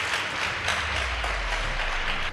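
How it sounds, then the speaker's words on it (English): A school debate audience breaks into applause for the Kakamega High and Friends School Keveye teams, a dense, sustained burst of many hands clapping filling the hall. "Please give them a round of applause."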